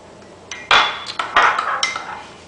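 Dark soy sauce and sherry mixed in a bowl for black pepper chicken, heard as a few close clinks and scrapes of a utensil against the bowl, irregular and fairly loud in a quiet room.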